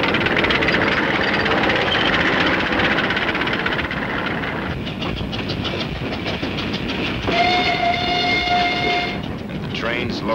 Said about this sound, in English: And the trains loaded with war wearies going back for salvage.